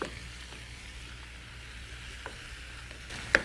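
An Indian chutney cooking down in a pan gives a soft, steady sizzle and bubble at low volume, broken by a few faint stirring clicks near the end.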